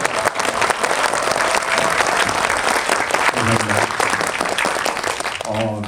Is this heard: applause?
yes